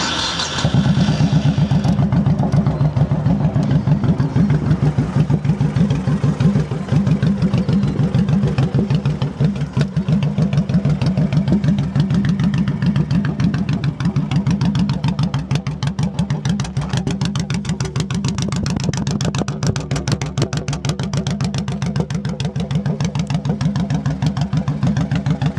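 A Honda Shadow Aero VT1100 V-twin motorcycle engine idles steadily and loudly up close, with a deep, even throb that carries on without letup for the whole stretch.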